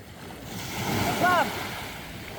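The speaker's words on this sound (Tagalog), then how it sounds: "Ang ganda ng dagat." Sea waves wash onto a beach at sunset, a steady rolling surf with wind noise and one louder swell in the middle, while a voice speaks briefly over it.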